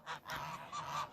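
Geese on a snowy farm give a short burst of honking calls, a couple of close, nasal honks in quick succession with no talk over them.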